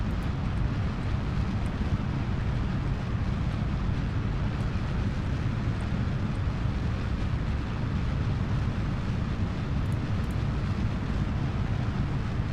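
A large rocket engine fires in Kerbal Space Program, a steady, loud, dense roar held without a break from start to end, with no voices over it.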